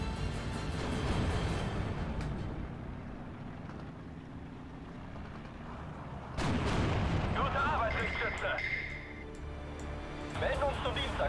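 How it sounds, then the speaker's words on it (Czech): Artillery fire in the wartime strategy game Steel Division 2: heavy booming blasts with long rumbling tails erupt twice amid ongoing battle noise, while someone talks over the action. "Já jsem o nich věděl, že tady budou mít nějaký dělo střelectva."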